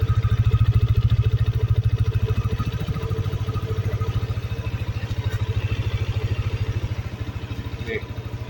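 A motorcycle engine idling smoothly close by, a steady low rapid putter that holds throughout with slight dips in level.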